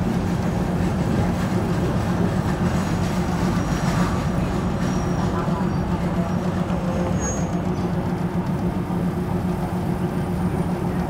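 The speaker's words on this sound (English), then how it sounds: "has arrived this train station, Ratsuwan, 4 minutes ahead of the schedule" A suburban train arriving at Ratsuwan Station, Thailand, rumbles loudly and steadily nearby, with a low hum, rolling wheel noise and a faint squeal, continuous throughout with no talking.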